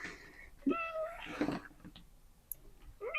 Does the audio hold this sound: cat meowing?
yes